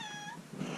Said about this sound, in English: This little kitty came back.